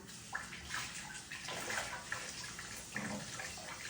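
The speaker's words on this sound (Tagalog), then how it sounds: "babanlawan ko lang para lutuin" Potatoes being rinsed under water, a steady broadband splash and gurgle of running water with a few brief louder swishes, close and alone with no talk.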